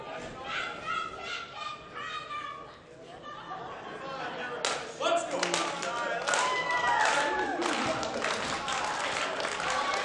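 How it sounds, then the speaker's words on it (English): Wrestling crowd at a Crossfire Wrestling show clapping in bursts and cheering, rhythmic claps building from a sparse patter to a loud, dense wave near the end, with chatter mixed in. "Crowd getting fired up right now."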